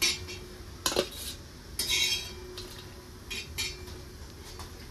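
A cabbage and egg breakfast is scooped from a pan onto a plate, with a few close metallic scrapes and clinks of a spatula against cookware separated by quiet pauses, and no talking.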